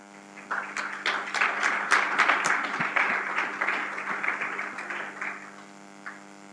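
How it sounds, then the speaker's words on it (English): Audience applause for partners at the launch of a child-friendly version of the African Charter on the Rights and Welfare of the Child, a steady burst of clapping over a low mains hum that swells, holds and fades out near the end. "Je demande à ce qu'on puisse applaudir pour vous."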